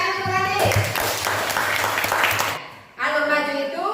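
Students in a classroom clap for a classmate named Rani, a short burst of fairly loud hand clapping that fades out after about two and a half seconds before a teacher's voice resumes.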